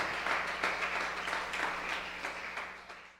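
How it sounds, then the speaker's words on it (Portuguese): A church congregation applauds during a sermon, a soft, distant-sounding wash of steady clapping lasting a few seconds, gradually fading, with no voices on top. "Você pode aplaudir o nome de Jesus?"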